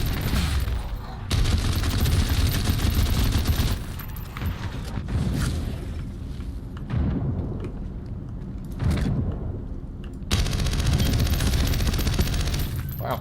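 Bursts of rapid automatic gunfire from a gun in the video game Synced, loud and close, coming in several sustained volleys separated by short pauses.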